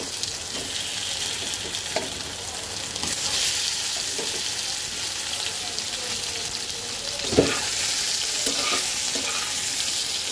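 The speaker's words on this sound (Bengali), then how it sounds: "এখন আমি সেদ্ধ করা আলুগুলো দিয়ে দেব।" Boiled potatoes fry with cumin seeds in a hot pan, giving a steady, even sizzle with a few soft stirring knocks and a brief clatter near the end, no voices.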